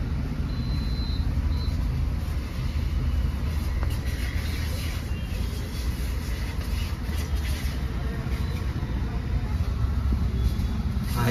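An MG Astor with a manual gearbox idles on CNG with its air conditioning running, giving a steady, even low engine hum with no rise or dip in revs, heard from close by.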